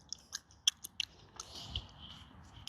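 Someone chews waxy, fibrous food up close, with a few sharp crunchy bites early on, then quieter wet, squelching mastication.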